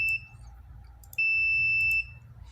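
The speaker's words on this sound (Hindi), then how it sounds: "इस पर इसकी टॉर्च चलेगी, वीएफएल चलेगी और ये बीप करेगा।" A handheld digital optical light source, power meter and network tester beeps in find-device mode, sounding a short, piercing high tone and then a longer one about a second later, close and clear with no talking.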